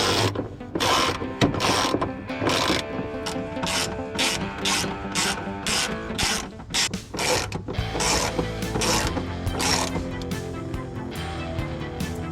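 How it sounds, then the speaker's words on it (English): A ratchet bolts an airbox in and does up hose clamps, giving close, repeated clicking strokes in quick uneven bursts along with some clanking of metal parts. "Bolting the airbox in, and then we're going to do the clamps up."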